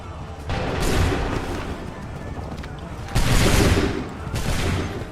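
Musket volleys crack in the video game Assassin's Creed III Remastered, several loud bursts of massed gunfire, each sharp onset followed by a rolling decay, with the second volley the heaviest.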